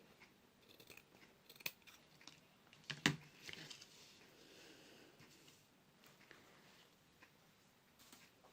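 Scissors snip through a sewn fabric piece being trimmed, a few sharp crisp cuts with one prominent snap in the middle, close and quiet in an otherwise still room.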